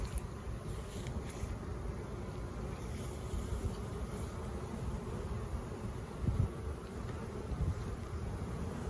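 Honeybees hum around an open hive during an inspection, a steady dense low drone that holds throughout with little change, outdoors and fairly faint, with no talk.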